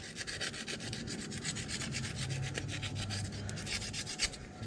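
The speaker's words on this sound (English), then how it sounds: "I'll just get 100 sandpaper." A spigot shaft is rubbed with 100 grit sandpaper, giving a steady close scratching rasp made of quick repeated strokes that runs the whole time, with no voices.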